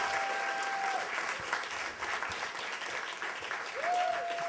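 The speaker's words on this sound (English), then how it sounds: "Keep clapping and he'll keep walking" An audience keeps clapping steadily as a man walks up, a dense, even applause of many hands at moderate volume, with a brief whistle-like tone at the start and again near the end.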